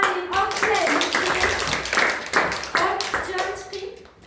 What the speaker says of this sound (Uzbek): Aferin, olqishlaymiz.